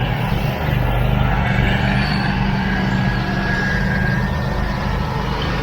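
Power buggies hauling limestone alongside a skid loader, a loud continuous diesel engine drone with a low rumble and a faint whine, close by, with no talk.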